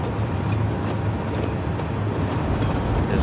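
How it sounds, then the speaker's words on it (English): A train speeds past in the city-building game Cities Skylines 2, a continuous loud rumble and rolling rail noise that stays steady throughout with no talk. "There's another train speeding by."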